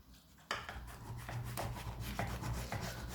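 A knife saws through a crisp-shelled, soft-centered tül perde dessert, giving close, rough scraping and crunching strokes that repeat steadily against a tray.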